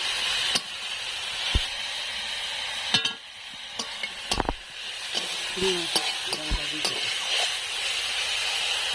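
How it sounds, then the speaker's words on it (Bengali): Pumpkin leaves seasoned with salt and turmeric are stir-fried in a pan, giving a soft, steady sizzle broken by a few sharp spatula scrapes and clinks. "শাক ভাজা হয়ে গেছে"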